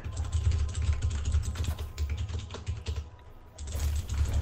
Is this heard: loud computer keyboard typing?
yes